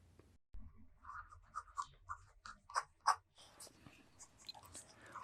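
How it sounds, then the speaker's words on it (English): A Pelikan M205 fountain pen nib scratches across reporter pad paper in quiet, close, irregular strokes and short taps, with soft whispery bursts and a brief pause, all faint. "The next writing sample is done on a WritePad's reporter pad."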